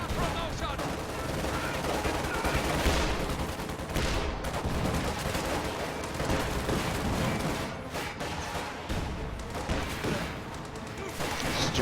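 Dense, continuous gunfire and explosions from a World War II strategy game battle with grenadiers and a half-track, steady overlapping rifle and machine-gun bursts throughout, with faint talk mixed beneath.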